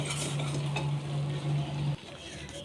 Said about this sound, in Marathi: कमी फ्लेममध्ये तुपात छान असं भाजून घेऊ सतत असं परतत राहायचं